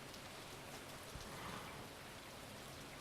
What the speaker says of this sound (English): I'm still confused as to why it was raining today.